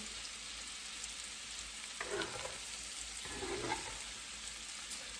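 Peeled, boiled fresh potatoes fry in a pan, giving a continuous soft sizzle that stays fairly quiet. Two brief scraping stirs rise out of the hiss partway through.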